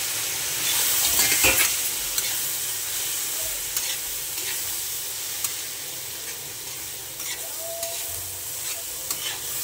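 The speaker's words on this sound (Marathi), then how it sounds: "त्यानंतर मी डाळ टाकणार आहे" Dal tipped into a hot pan and stirred, a steady close sizzle and frying hiss with scraping stir strokes throughout, no talking.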